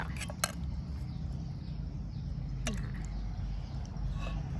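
Spicy fish-sauce dressing for som tam being mixed in a dish, with light clinks and taps of a utensil against the bowl over a low background rumble, a few sharp strikes standing out.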